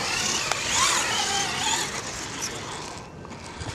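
A small RC truck drives around a skate park with a steady whining electric motor that rises and falls as it moves, fairly close, with no speech over it.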